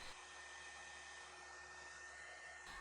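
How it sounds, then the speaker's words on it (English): A heat embossing tool blows hot air in a continuous, even whir that holds steady close by and stops abruptly at the end. "We're going to heat emboss that."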